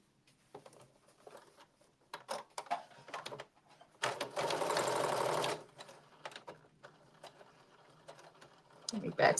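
A sewing machine backstitching a blazer, short bursts of stitching followed by a sustained loud run of rapid needle chatter in the middle, with light handling noises around it.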